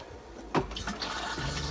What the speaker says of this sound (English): flush it with the blue button